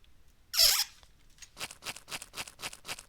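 A cat runs in a hunting cat video game, heard as a sharp squeaky burst followed by a quick series of soft, evenly spaced footfalls, close and faint.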